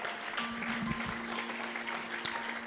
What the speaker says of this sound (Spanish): Yo pensaba un aplauso grande,